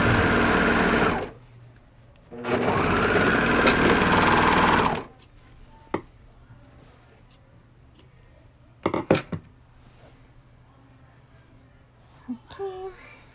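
Domestic sewing machine stitching a seam on an Ariel costume bodice, two loud sustained runs of rapid motor whir near the start, then quiet with a few small clicks and handling sounds.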